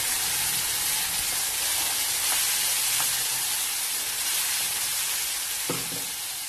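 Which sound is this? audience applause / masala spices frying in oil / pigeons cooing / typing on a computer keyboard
masala spices frying in oil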